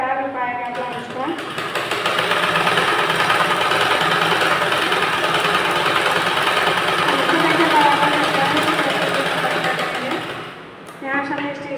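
An electric sewing machine stitches a blouse in one long, loud, steady whirring run that starts and stops sharply, with brief talk at either end.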